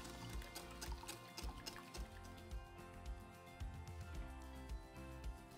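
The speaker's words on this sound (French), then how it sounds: "je verse le crémeux dans mon moule à insert" Mint chocolate cream poured into an insert mould, a faint, close, soft liquid trickle with small wet drips and squishes running steadily throughout.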